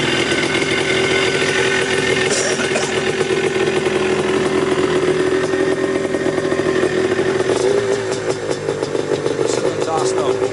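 A 1979 Honda CR250 Elsinore two-stroke motorcycle with a DG pipe exhaust, started stone cold, runs steadily nearby with a buzzy, continuous engine note throughout.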